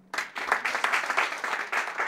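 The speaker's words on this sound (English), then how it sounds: "Can we have a loud clap for this guy?" Audience members at a chapter speech event break into applause for a man called up front, dense clapping starting abruptly and holding steady at close, loud level.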